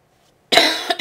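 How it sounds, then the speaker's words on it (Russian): A single harsh cough bursts out close and loud after a moment of near silence, followed by a brief second cough, from a character in GTA IV. "Да что ж с кашлем-то у меня такое."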